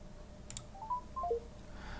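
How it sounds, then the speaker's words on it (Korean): A phone placing a Google Assistant video call gives a short run of faint dialing beeps, several quick tones in succession, no talk. "IB96 휴대전화에 전화를 거는 중입니다."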